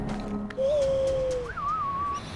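An owl calls in the prehistoric video game Far Cry Primal, two smooth whistled hoots rising slightly in pitch, clear and moderately loud over a soft ambient game background.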